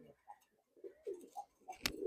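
Giribaz pigeons of an old lineage in a loft give several soft, close coos in a quiet space, ending with a brief sharp click.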